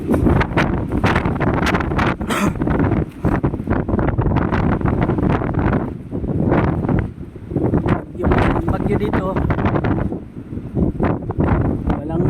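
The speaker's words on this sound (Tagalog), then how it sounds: "Lakas ng hangin." Violent typhoon wind at signal number 4 roars and pounds against the microphone in heavy, continuous gusts, loud and close, with brief lulls between blasts.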